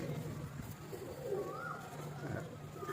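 A pigeon being handled coos softly in low, rounded murmurs, quiet and close against a faint background hum.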